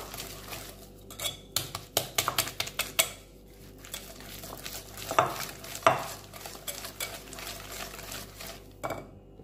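A spoon scraping and clinking against a bowl while a cream cheese mixture for a no-bake Oreo cheesecake is stirred, with irregular close taps and soft scrapes.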